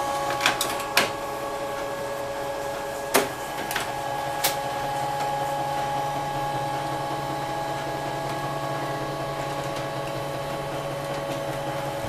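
A photocopier scanning and making a copy, with a steady mechanical hum and whine under a few sharp clicks near the start, then an even running drone that continues to the end.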